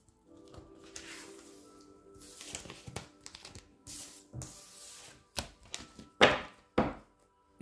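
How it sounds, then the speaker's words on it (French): Small folded paper slips with words rustle, crinkle and knock about in a box as they are drawn by hand, with several sharp crumpling bursts and thumps close up. "Je vous tire les petits mots, les petites lettres."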